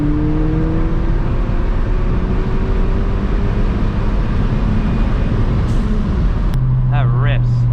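A Ford Fiesta ST running an E30 tune accelerates hard in third gear, with a loud, rising engine note and intake roar heard from inside the cabin, plus a short whistle or whine near the end.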